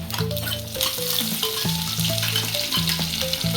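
Curry leaves and garlic hit hot oil for a rasam tempering, a bright crackling sizzle that flares with each addition, layered over tonal background music, with no talking.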